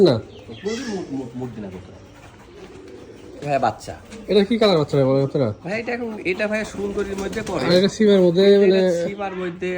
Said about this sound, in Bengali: মাথা নষ্ট করা কবুতর